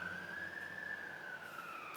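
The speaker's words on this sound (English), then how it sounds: "Ambulance coming down the street." An ambulance siren coming down a city street, one long sustained wail faint in the distance over steady background hum.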